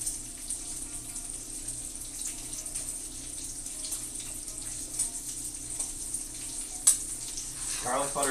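Bacon sizzling and crackling in garlic butter in a pan, a fairly quiet steady hiss throughout, with a brief voice at the end.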